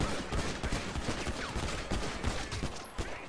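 Video-game gunfire with rapid, dense volleys of shots pounding throughout, close and loud, over constant background clatter.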